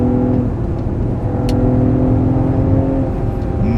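A Mercedes-AMG GLE 53 six-cylinder SUV engine hums and rises in pitch as it accelerates in sport mode with exhaust sound off, heard from inside the cabin with steady road noise underneath.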